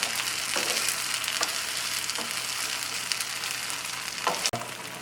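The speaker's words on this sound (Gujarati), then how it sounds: "સ્લરી નાખીને આને આપણે સતત હલાવતા રહીશું." Chilli paneer frying in a pan as a maida and cornflour slurry is stirred in, giving a steady, close sizzle with occasional soft scraping strokes of the spoon and one sharp clack near the end.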